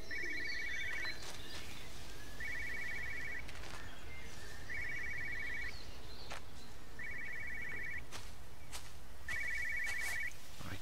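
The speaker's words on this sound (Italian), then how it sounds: "C'è un telefono qui." An old-style electronic telephone rings in the game Everybody's Gone to the Rapture, five evenly spaced bursts of trilling over a quiet outdoor ambience with faint birdsong.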